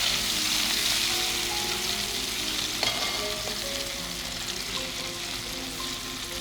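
Plenty of onions fry in hot oil as the base for an anchovy fish curry, a steady dense sizzle with faint occasional clinks of stirring throughout, no voices.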